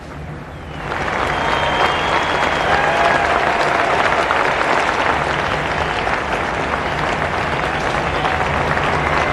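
Applause from a large crowd at a Democratic National Convention swells quickly and holds as a loud, dense, continuous roar of clapping filling a big hall.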